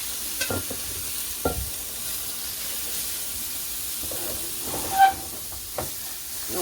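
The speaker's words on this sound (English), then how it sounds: "all you're gonna do is just let this saute" Vegetables with a small piece of broccoli saute in a pan, a faint continuous sizzle broken by occasional scrapes and clinks of a stirring utensil.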